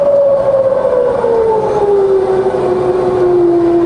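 A Bridgeport milling machine spindle runs in low range, a steady close whine whose pitch slowly falls as the speed drops, over a low mechanical hum.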